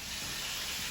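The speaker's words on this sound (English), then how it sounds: "you're gonna get a sizzle here." A broad, steady hiss fills the short moment as chicken goes skin down into a hot pan, close and fairly loud.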